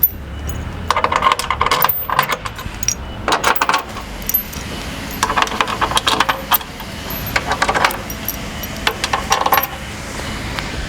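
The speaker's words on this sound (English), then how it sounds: "And then pull your bolts back through." Metal bolts pulled back through poly skid bushings on a KAGE SnowStorm Blast snow pusher, heard as close bursts of jingling, clinking metal rattles separated by brief pauses.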